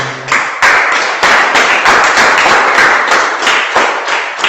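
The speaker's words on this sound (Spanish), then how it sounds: "Den un aplauso al Señor." Church congregation clapping during a sermon, loud and close, with distinct sharp claps and taps in an uneven rhythm, a few stronger bursts standing out over a continuous patter.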